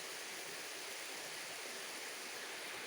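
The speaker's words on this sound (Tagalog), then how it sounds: "May butas siya at may maagos na tubig" Water flows steadily beneath a hole in the ground at a cave, a constant rushing wash, fairly faint and even throughout with no voices.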